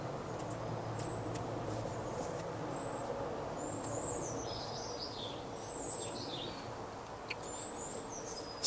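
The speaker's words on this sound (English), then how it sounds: "Sun has brought the birds out." Garden birds chirping and calling in spring sunshine, a series of clear whistled and twittering phrases over a steady low outdoor background, with no talking.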